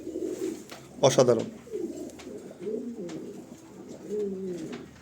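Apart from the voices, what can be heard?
Danish tumbler pigeons cooing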